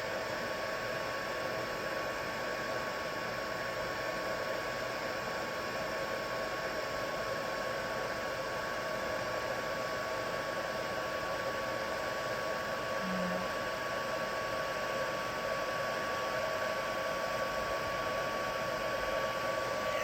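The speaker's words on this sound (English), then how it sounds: "Just wanted to make sure that heat gun was nice and hot." A heat gun runs steadily as a constant, even whoosh of airflow with a faint motor whine, unbroken and close throughout, no talking.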